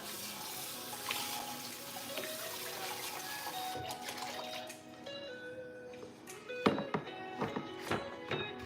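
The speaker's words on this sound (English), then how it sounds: "I'm gonna rinse out a measuring cup." A measuring cup being rinsed under a kitchen tap: water runs steadily, then a few knocks and clunks as the cup is handled in the sink.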